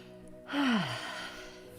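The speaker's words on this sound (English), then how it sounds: "take a few deep breaths" A deep, slow breath drawn in and let out during a calm guided meditation, a single soft sighing exhale with a falling pitch, close and quiet, with no talking.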